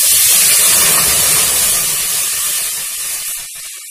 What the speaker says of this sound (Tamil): இந்த வடிகட்டின தண்ணியை இதில் ஊற்றிடும்